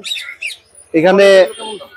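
At a pigeon and pet market, a couple of short high chirps come first, then one loud, harsh bird squawk lasting about half a second, close by.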